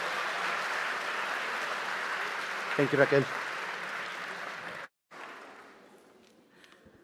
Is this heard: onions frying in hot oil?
no